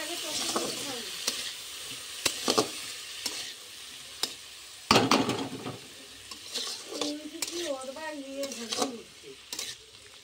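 Potatoes fry in a pan with intermittent clinks and scrapes from stirring over a soft, low sizzle. A voice is faintly heard partway through.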